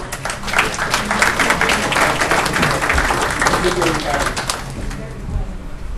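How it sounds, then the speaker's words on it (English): Audience at a council meeting applauds, dense continuous clapping that is loud and close, with voices mixed in, tapering slightly toward the end. "Give them a round of applause."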